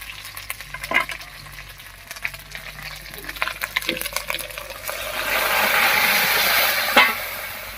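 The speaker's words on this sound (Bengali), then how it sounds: "ফোড়নের উপরে ডালটা দিয়ে চার পাঁচ মিনিট রান্না করে নিয়েছি" Dal cooking over a spice tempering in a pan, scattered taps and scrapes of stirring at first, then a broad bubbling sizzle that swells and holds near the end, with no talking.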